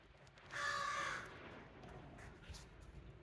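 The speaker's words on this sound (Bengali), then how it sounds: "আপনি শুনতে পারতেছেন ওই যে একটা কাক বসে আছে" A single crow perched in a tree caws once, a harsh call from a short distance outdoors in falling snow in Gaithersburg, Maryland, followed by quiet background.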